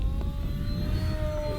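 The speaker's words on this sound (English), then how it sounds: "And throttle on, and throttle up, and then punch it up." A small Durafly MFX Racer electric RC plane motor at full throttle, a steady high-pitched whine holding close and loud with no talk.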